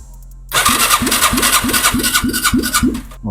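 A motorcycle's electric starter cranks the engine, which fails to fire because it has no spark, producing a steady rhythmic whir of about eight even compression pulses. The cranking is close and loud and starts abruptly, with no voices.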